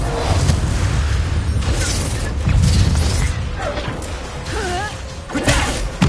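Magical spell blasts boom and crash in Hogwarts Legacy gameplay, a steady run of dull explosive thuds and bursts layered with whooshes and clattering effects, loud throughout with a few brief voice cries mixed in.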